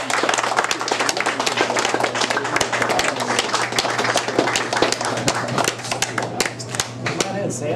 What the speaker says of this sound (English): let's give another round of applause for BBQ Productions and YCC